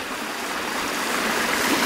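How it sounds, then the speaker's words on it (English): Stream water running off the hills in a field on a walk between Wells and Wookey Hole, a steady close rushing and gurgling wash with no break and no voices. "Water coming off the hills, going under the ground there,"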